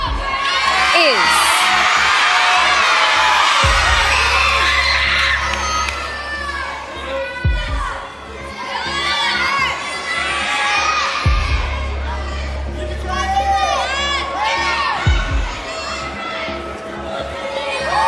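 A television studio audience at the Australian Idol grand finale announcement cheers and screams loudly and continuously, with high whoops and shrieks, over a pulsing music bed that keeps dropping out and returning.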